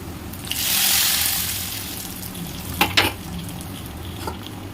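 A tempering of mustard seeds and onion is tipped into a simmering village-style sardine (mathi meen) curry, giving a sudden loud hiss of sizzling that fades, then a few short clinks and splashes near the pan.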